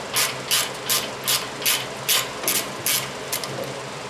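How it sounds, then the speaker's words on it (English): A ratchet loosening the 19 mm castellated nut on a Toyota Tacoma SR5 4WD tie rod end, with about ten loud, close clicking bursts in a regular back-and-forth rhythm, heard alone. "So we'll go ahead and loosen that up, take that nut off of there."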